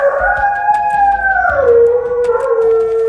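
An American Bully dog howls in a long, wavering tone that slides downward partway through and then holds low, loud and close, with no voices over it.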